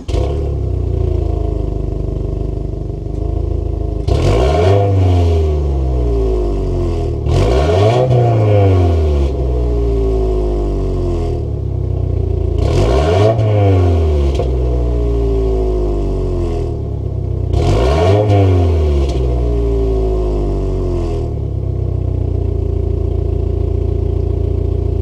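A 2022 Subaru WRX with a turbocharged 2.4-liter flat boxer engine idles steadily and is revved four times in sharp, loud blips, each rising and falling back to a rumbling idle.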